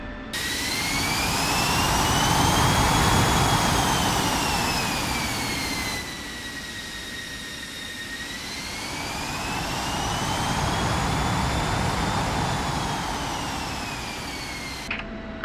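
Jet engine wash roars in the DCS flight simulator game, a loud sustained turbine whine with rising and falling tonal sweeps over broadband rumble, briefly dipping mid-clip before swelling again, with no talking.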